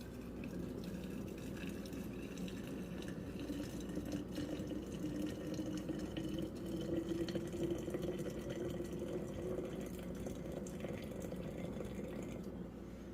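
Water is poured steadily, about 350 ml, in a continuous soft stream with a gentle rising fill tone, fairly quiet and uninterrupted for its whole length.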